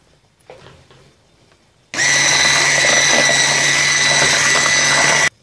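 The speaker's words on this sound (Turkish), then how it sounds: "Şimdi bütün malzemelerimi mikserle iyice çırpıyorum." An electric hand mixer whirs loudly and steadily, beating the ingredients for a poppy seed revani cake batter. It starts abruptly after a short stretch of quiet kitchen sounds and keeps running without a break to the end.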